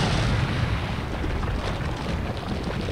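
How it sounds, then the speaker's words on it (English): A grenade explosion in the video game Resident Evil 4 HD, a loud, close, sustained rumbling blast that fills the whole moment with dense low roar and slowly eases. "Just grenade them."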